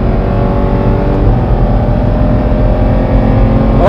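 A Porsche 911 GT3 RS at full throttle on the Grobnik track, a loud, close engine roar held steady for several seconds as it pulls hard, alone with no talk over it.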